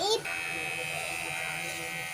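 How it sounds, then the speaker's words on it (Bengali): An electric hair clipper trimming a man's hair outdoors, a close steady high buzz that starts abruptly after a brief louder burst and runs on continuously. "আগের যে মেশিনটা ছিল ওটা শুধু ন্যাড়া হয়ে যেত আর এটাতে কম কম চুল থাকছে"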